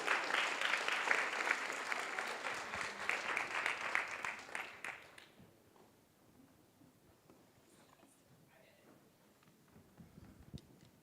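Lecture audience giving themselves a round of applause, loud dense clapping for around five seconds that dies away into a quiet room with faint rustling and a voice.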